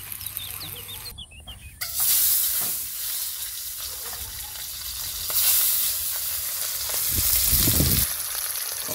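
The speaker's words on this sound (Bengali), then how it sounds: "কাঁকরোলটা একটু ভাজা ভাজা করেছি।" Pieces of teasel gourd fry in hot oil in a village kitchen, with a steady sizzle and occasional stirring scrapes, and a rooster and other birds chirping faintly at the start.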